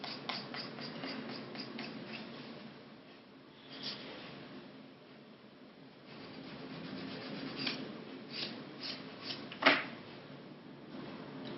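The 100-grit side of a 100-180 grit buffer block smooths acrylic nails, giving faint, steady rubbing strokes up close. The rasping comes in a slow, even rhythm with no talking.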